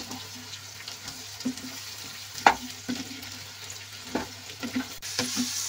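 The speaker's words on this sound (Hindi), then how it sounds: "और मशरूम को भी थोड़ा सा भून लेंगे।" Mushrooms frying in a pan with already-browned onions, a steady low sizzle with occasional stirring scrapes and clatters, close up and without any talking.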